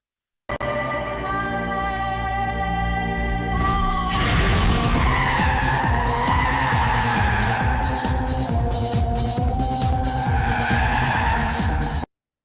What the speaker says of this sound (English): So the model understands that in the video there is some drifting, there is some car riding